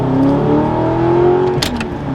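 A V8 car engine and exhaust accelerate into traffic, the harmonic engine note climbing steadily and loud, with a brief higher whoosh near the end; no talking.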